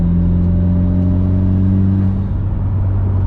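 A turbocharged Mitsubishi Evo 7 in fifth gear pulls under throttle past 3,000 RPM with a steady, droning engine note and a faint rising whir, loud and close with no talking.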